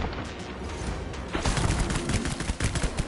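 Video game gunfire from Death Stranding on PS5 while shooting enemies: quieter scattered shots at first, then a dense, loud burst of rapid rounds in the second half.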